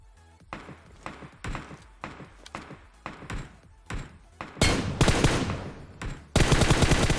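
Gunfire during a vehicle fight in the mobile battle royale game BGMI: a rhythmic string of sharp single shots that gives way to loud, rapid automatic bursts, close and dominant.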